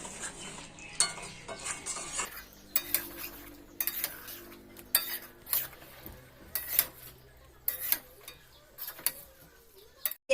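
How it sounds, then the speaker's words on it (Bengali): Potatoes stirred in a pan with chicken masala (chicken kosha made with little oil and spice), a spoon scraping and clinking against the pan in irregular strokes, fairly quiet, with a soft sizzle underneath. "আলুগুলো দেওয়ার পরে একটু ভালো করে নাড়িয়ে চাড়িয়ে নিয়েছি"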